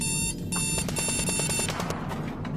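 A loud, insistent electronic warning beep from a video-game bot coming to life repeats in rapid pulses. It stands alone and fills the short stretch at a steady, piercing level before it cuts off.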